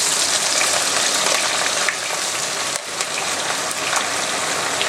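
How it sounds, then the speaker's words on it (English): Sliced onions sizzling in hot oil for a garlic mutton recipe, a steady, close, crackling hiss that runs without pause, with a few small pops and spits. "you have to fry the onions first, so add the sliced onions"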